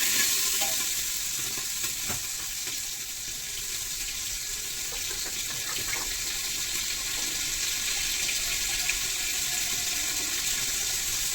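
Onion and green chili stirred and fried in a pan with browned cumin, giving a steady, close sizzle with occasional scrapes and stirring clicks throughout.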